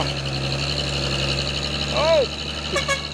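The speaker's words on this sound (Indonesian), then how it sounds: "Truk tronton bus oren 6x2." An orange six-by-two tronton truck's engine idles with a steady low drone, and a brief tonal whine swoops up and down near the end.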